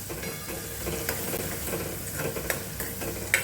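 Food fries in a pan while a spoon mixes it, repeated scraping strokes and sharp clinks over a continuous sizzle, close and fairly loud with no talk.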